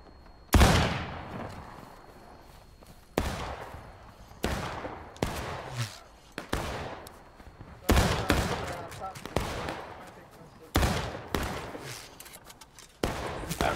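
Enemy soldiers firing at the player in a video game battle across a field, with cannon fire nearby: repeated loud sharp bursts of gunfire in irregular volleys, each decaying quickly, over about fourteen seconds.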